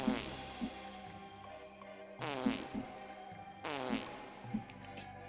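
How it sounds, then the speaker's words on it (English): Cartoon fart sound effect for a cute little hippo character, triggered by a livestream redeem: three long, buzzy, wobbling blasts in a row, each starting with a sharp burst, played loud and clear with no talking over them. "Cute little Bert is going to fart just for you guys."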